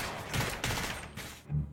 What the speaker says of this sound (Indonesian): Muter menembak kaki Jahid